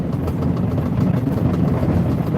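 A truck engine runs steadily, a dense low rumble that stays loud and unbroken throughout, with no voices over it.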